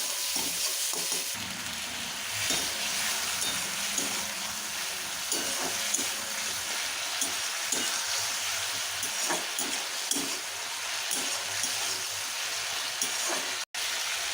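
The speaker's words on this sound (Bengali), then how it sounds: "ভালো করে মশলাটা কষিয়ে নেব" Spice paste sautéed in a pan until the oil separates, before poppy seed paste and fried potato and pointed gourd are added; a constant dense sizzle with occasional soft stirring scrapes, moderately loud and close.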